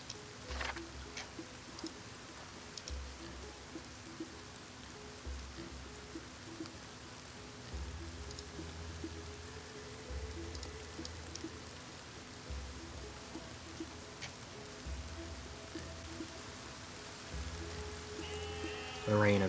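Steady rain patters on a surface throughout, with occasional brief clicks and a soft low rhythmic background, no voices; rain in the video game Masterplan Tycoon.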